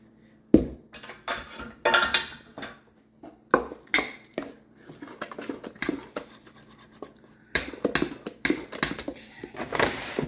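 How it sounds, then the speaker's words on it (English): Chocolate pound cake batter with Hershey's milk chocolate and flour mixed in a bowl, irregular scraping, tapping and clinking of a utensil against the bowl in uneven bursts with short pauses, close and moderately loud. "Now, we want to make sure everything is mixed together."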